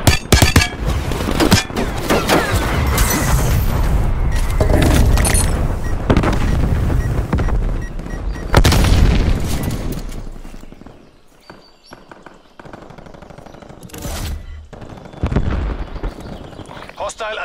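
Incoming artillery strikes in the video game Dirty Bomb, heavy booming explosions that rumble and overlap, easing off partway before more distant blasts return, with game voice lines and battle noise mixed in.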